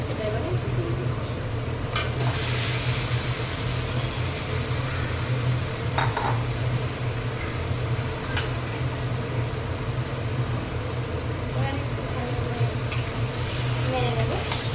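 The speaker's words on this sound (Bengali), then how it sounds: "পেঁয়াজটা প্রায় ভাজা হয়ে গেছে, ব্রাউন কালার হয়ে গেছে।" Chopped onions, nearly browned, sizzle steadily in hot oil in a pan as a mixture coated with salt, turmeric, chili powder and oil is added, with occasional light clinks of stirring over a continuous close, even frying hiss.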